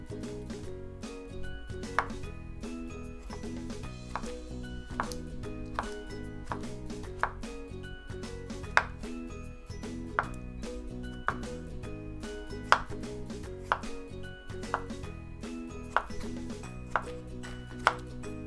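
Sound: knife chopping fruit into small pieces

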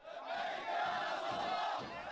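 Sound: Iraqi protesters chanting slogans

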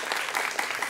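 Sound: audience applause for both schools

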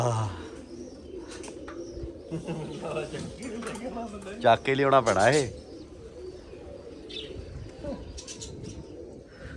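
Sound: pigeon

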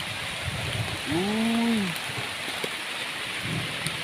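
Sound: rain

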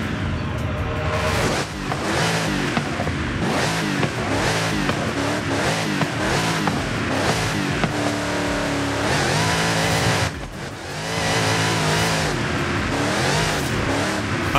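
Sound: 1100 HP 7-litre V8 lightweight car accelerating on drag strip

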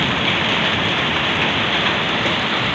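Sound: giant hailstones falling during a storm

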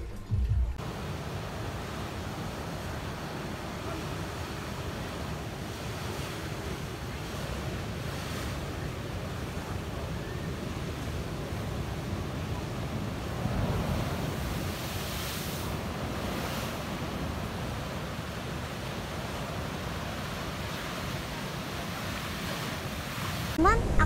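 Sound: ocean waves and wind at Eco Beach, Canggu, Bali

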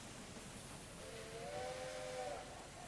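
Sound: train whistle in Railway Empire 2 video game

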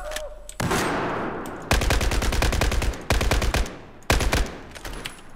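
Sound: SCAR-H rifle gunfire in video game Battlefield 4

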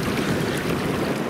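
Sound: ocean waves

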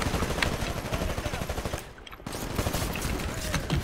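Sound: gunfire in the video game Titanfall

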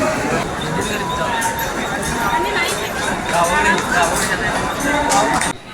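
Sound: crowd bustle in a busy street after leaving the mall

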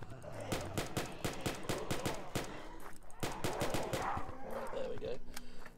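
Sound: gunfire shooting zombies in the video game Dark Days

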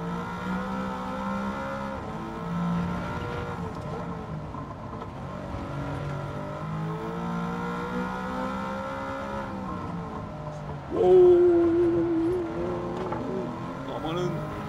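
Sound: Mercedes-AMG GT S '15 engine accelerating, Gran Turismo 7 video game

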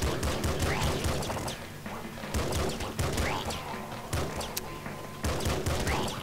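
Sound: pistol gunfire in Nuclear Throne video game

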